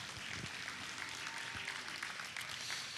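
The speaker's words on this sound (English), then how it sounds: "help me in thanking them with a huge round of applause" Applause from a crowd at a junior breeding heifer livestock show ring, a faint, steady wash of clapping heard from a distance, with no one speaking over it.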